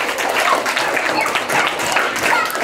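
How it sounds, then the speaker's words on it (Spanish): A party crowd at a first birthday celebration claps for the parents in a brief, lively burst of close, continuous applause, with some voices faintly mixed in. "fuerte los aplausos para los papitos."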